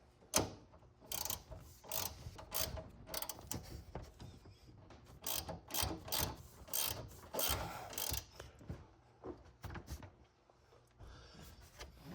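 A ratchet wrench tightens front strut bolts on a 2007-2018 Chevrolet Silverado during a 3-inch quick lift install, a quiet series of short clicking bursts with brief pauses between them.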